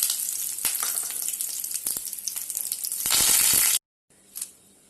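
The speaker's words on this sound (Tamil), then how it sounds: "அப்போ ஆஃப் பண்ணிட்டு இந்த அனலில் இந்த கருவேப்பிலை போட்டு எடுப்போம்" Curry leaves hit hot oil after the flame is turned off, giving a close, crackling sizzle that swells into a loud hiss, then cuts out briefly before a short final sizzle.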